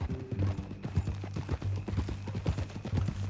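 Horse hooves clip-clop in a steady, close, rapid rhythm in the Western video game Red Dead Redemption 2, the trotting continuing throughout at a moderate loudness.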